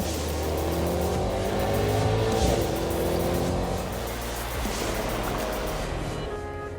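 A Mercedes-AMG GT 4-door Coupé with a bi-turbo V8 accelerates in a loud, continuous growl, the engine pitch climbing steadily with rising harmonics and no speech over it.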